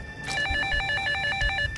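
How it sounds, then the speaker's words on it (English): Telephone ringing in the PAYDAY heist game's Mercy Hospital level, a bright electronic ring repeating in short regular bursts, fairly close and steady, with faint game ambience beneath and no talk. "Guys, answer the phone."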